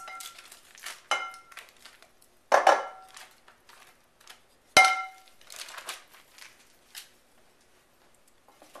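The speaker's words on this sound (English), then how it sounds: "We're going to stir this to mix." A spoon scrapes and thumps through stiff cream cheese and Oreo cookie crumbs in a bowl, making a few sharp clacks and smeared scraping strokes, close and fairly quiet, with no talking.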